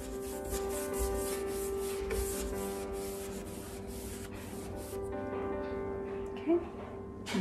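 A cloth or pad rubs over painted furniture, a continuous brisk scrubbing in quick back-and-forth strokes, close and fairly quiet, with a steady tonal hum running underneath.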